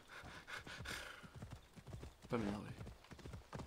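Horse hooves clip-clop steadily in Assassin's Creed Odyssey, with a neigh rising briefly midway; someone talks over much of it.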